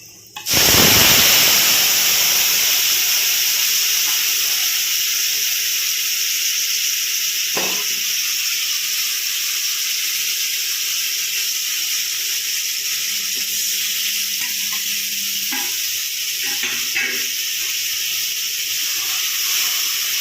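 A spice paste of chilli powder and salt for a banana-flower bharta hits a hot pan with a sudden loud burst of sizzling, then settles into a steady hiss with a few faint clinks, close and unbroken by talk.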